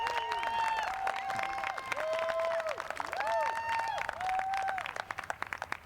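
Audience applause for a jazz band at a live outdoor fort event, steady clapping under continuous singing or sustained tones, fading into scattered claps at the end.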